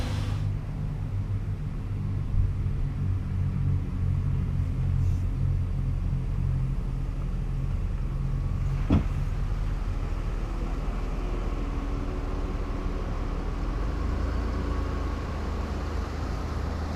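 A Ford Crown Victoria P71 idles with a steady, low, droning engine rumble that holds evenly throughout, marked by a single brief knock midway, with no voices.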